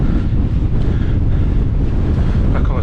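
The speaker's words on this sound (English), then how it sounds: "Back on the tops and the wind's picking up." Strong wind buffeting across the exposed Peak District moor tops, a loud continuous rumbling roar with heavy gusts battering the microphone, no voices.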